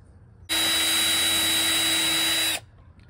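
A power drill running steadily for about two seconds while tapping a screw hole for a switch panel in the bed of a Ford Maverick truck, a loud close whine starting and stopping abruptly.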